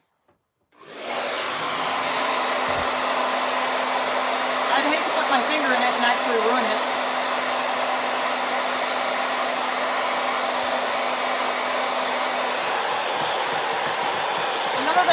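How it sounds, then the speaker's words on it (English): A hair dryer blows steadily at close range for about fourteen seconds, a constant loud whooshing hum with a faint tonal whine, while a person speaks briefly over it. "let me actually hit these with the hairdryer just"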